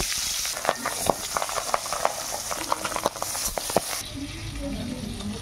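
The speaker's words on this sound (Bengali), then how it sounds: "বাকি মাছগুলোও ভেজে নেব।" Pabda fish frying in oil in a pan, a steady close sizzle with repeated sharp crackles and pops, ending in a softer hiss.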